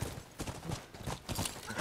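Horse hooves clip-clopping at a gallop in The Last of Us on PS4, a steady repeating rhythm of close, moderately loud hoofbeats with no talk over them.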